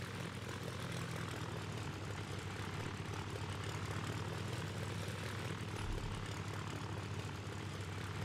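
Cargo plane arriving at an airport in the Sky Haven management game: a steady propeller aircraft engine drone, constant and fairly loud, with no speech.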